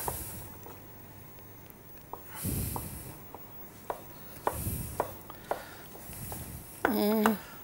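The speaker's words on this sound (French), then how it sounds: "on va le couper en tout petits cubes" A knife chops a tomato into small cubes on a board, giving a series of separate, fairly close thuds over a quiet background, ending with a short squeaky scrape.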